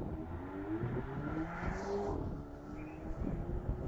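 A Volvo S60 Polestar revs and accelerates at Kari Speedway track with a rising, rumbling drone, steady and fairly close, with no voices.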